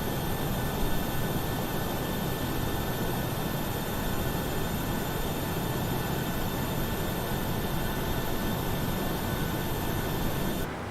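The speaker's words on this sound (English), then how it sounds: "So we are starting our pushback." Simulated Boeing 737-800 aircraft noise from a flight simulator plays during pushback and engine start, a loud, dense, steady jet rumble and whine that continues unchanged before cutting off near the end.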